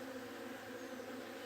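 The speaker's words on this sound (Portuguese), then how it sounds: "O som das abelhas que é encantador" Bees buzzing among flowering jabuticaba branches, a steady, even drone of many insects close by, soft and continuous with no voices.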